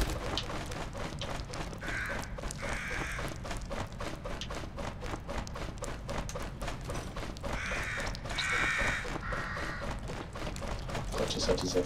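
Crow-like cawing in the horror game The Evil Within, several harsh calls in bursts around the middle and end, heard over game noise and a speaking voice.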